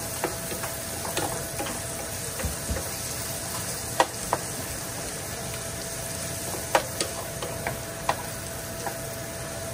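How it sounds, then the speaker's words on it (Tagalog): Onions frying in a pan, a steady wet sizzle crackling throughout with scattered sharp pops and light clicks of stirring, fairly close and with no one speaking. "Gawin mo natin mabuti yung sibuyas natin."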